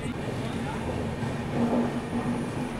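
The Dakshin SF Express rolls into Bhuvanagiri railway station with a steady, loud rumble of wheels and carriages and a faint recurring squeal of the wheels on the rails.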